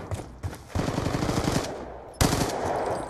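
Rapid machine gun bursts rattle out in a shooter video game, two sustained volleys of fast, close, loud shots separated by a brief pause.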